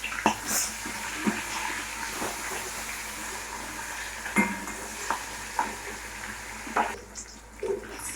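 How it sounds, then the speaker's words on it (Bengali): Fish fries in hot oil in a wok with a constant crackling sizzle. Repeated scraping and stirring knocks punctuate it, and near the end the hiss thins out. "মাছগুলো আমাদের ভাজা হয়ে গেছে,"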